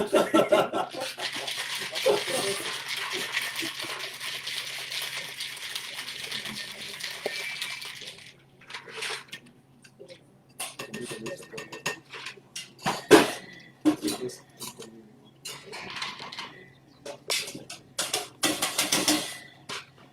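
A cocktail shaker packed with ice is shaken hard for a gin drink at a country club World Gin Day event, giving about eight seconds of dense, loud rattling, then scattered clinks and knocks of bar tools.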